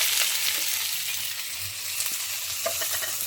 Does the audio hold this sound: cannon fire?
no